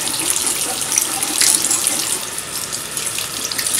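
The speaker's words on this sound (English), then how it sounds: "So I'm just gonna wash all of my brushes right now." Steady hiss of tap water running into a sink while makeup brushes are washed, loud and continuous close to the faucet.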